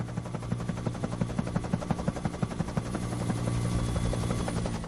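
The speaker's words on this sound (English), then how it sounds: "It's Harold the helicopter." Helicopter rotor chopping in a steady rapid rhythm, close and fairly loud, with a faint high whine above it.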